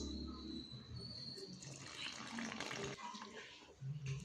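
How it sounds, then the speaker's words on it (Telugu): Water is poured into a bowl of egg batter with salt and whisked in, a quiet, close splashing and sloshing of liquid that runs steadily for a few seconds, with a faint voice underneath. "ఇప్పుడు దీంట్లో వాటర్ వేసి కలుపుకుందాము."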